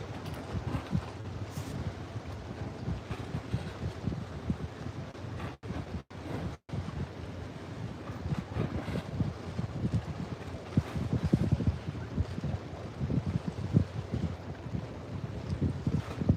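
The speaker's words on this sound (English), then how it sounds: "It's pretty windy, so." Strong wind buffets the microphone on a fishing pier at night, a constant low roaring rush with gusty swells and no talking, close and steady throughout.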